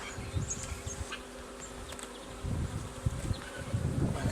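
Honey bees buzz around a beehive, a continuous droning hum with individual bees passing close, quiet and steady with occasional handling bumps and no talking.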